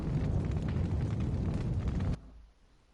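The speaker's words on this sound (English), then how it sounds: "Ah, that's the cannon." A cannon in the video game Valkyria Revolution fires, a loud sustained explosive roar lasting about two seconds before cutting off abruptly to quiet.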